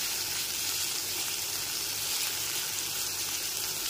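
Chopped tomato frying with ginger paste in a pan for a light potato and pointed gourd fish curry gives a steady, close, even sizzle throughout, with no voices.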